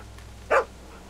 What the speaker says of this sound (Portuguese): Um cachorro.